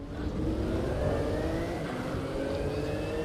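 A BMW engine in Assetto Corsa EVO at the Nürburgring revs steadily with a smooth, continuous mid-pitched drone, pitch climbing gently as it pulls, close and alone with no talk.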